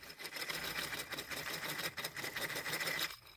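An old, somewhat battered hand crank drill turns steadily, giving a continuous close, busy whirring with rapid gear clicking throughout, with no talking over it.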